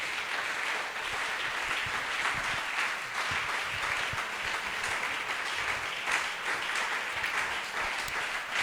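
A church congregation applauding in a hall during a sermon, a dense, continuous wash of many hands clapping that holds steady throughout.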